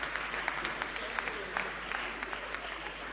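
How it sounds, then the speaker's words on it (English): An audience clapping to welcome a speaker at a breast cancer awareness event, moderately faint, steady applause with scattered louder individual claps over a low constant hum. "So with a round of applause, please let's welcome him."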